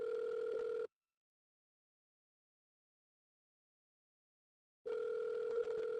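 A telephone call ringing before voicemail, two steady ringback tones separated by a long stretch of silence, heard clearly and alone.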